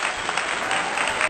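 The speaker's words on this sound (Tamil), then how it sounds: "யாரெல்லாம் கண்டுபிடிச்சீங்க அவங்களுக்கு ஒரு பெரிய கைத்தட்டல் குட்டீஸ்" Brief burst of dense, steady clapping from a group, loud and continuous before cutting off abruptly, cheering a correct answer in a children's Tamil vowel quiz.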